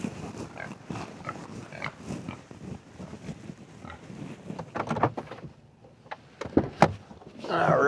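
Pigs in a farm pen give soft, scattered grunts and snuffles, close by and fairly quiet. Some louder clunks and rustles of bedding or the gate come near the end.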